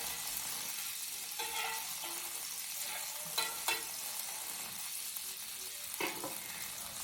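Food spatters and sizzles in a hot, dry pan: a dense, steady hiss with scattered louder pops and crackles, close and continuous with no talking.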